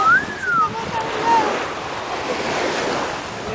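Ocean surf rushes and washes steadily over sand nearby, with gusty wind buffeting the microphone and a faint whistling tone early on.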